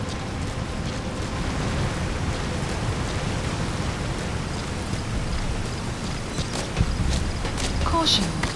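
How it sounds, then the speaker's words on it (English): Steady rain falls in the Metal Gear Solid V: The Phantom Pain video game, a dense, even hiss that carries through the whole stretch with a few brief louder knocks near the end. "Caution, rain approaching."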